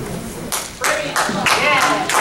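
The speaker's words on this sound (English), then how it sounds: "well, you don't have to clap" Scattered claps from a church congregation at a Mother's Day service come in several uneven bursts, mixed with murmuring voices in a reverberant hall.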